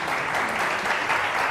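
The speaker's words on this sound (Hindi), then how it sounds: "आइए, जरा बहुत सारी तालियां अनीस के लिए।" An audience at a televised fashion show gives a burst of applause for a model on the runway, dense, even clapping at moderate volume that lasts about a second and a half.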